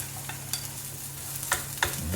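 Chopped onion sizzles in hot olive oil in a pan, a soft steady frying hiss broken by a few sharp scraping stirs from a utensil, close and fairly quiet with no talking.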